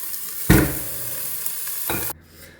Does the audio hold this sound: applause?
no